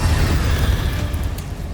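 The Incendio fire spell is cast in the video game Hogwarts Legacy, giving a loud, deep whooshing burst of flame that rumbles steadily for under two seconds.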